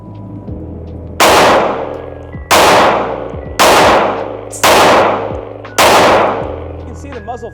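Five loud, sharp shots from a Smith & Wesson M&P 5.7 pistol, spaced roughly a second apart, each ringing out with a long decaying tail over a steady background hum.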